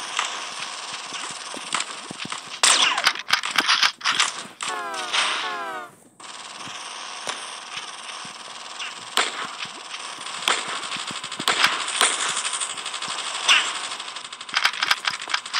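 Gunfire in a video game comes as rapid bursts and scattered single shots over a constant background hum of game noise. A dense rattling volley sounds early on, and a voice is faintly present.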